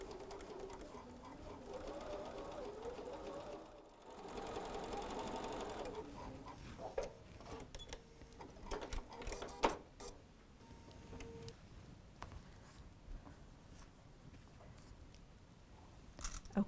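A sewing machine stitches quilt block fabric with a quiet, rapid mechanical whir in steady runs, then slows and stops with a few soft clicks and handling taps.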